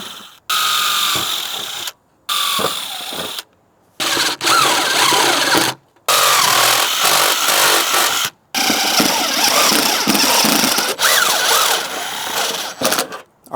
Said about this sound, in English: So I'm gonna drill a small pilot hole first, and then I'll drill the next hole.